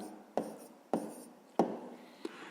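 A pen writing an answer on paper while solving a fifth-grade math exercise: four quiet, short scratching strokes spaced about half a second apart, in a near-silent room.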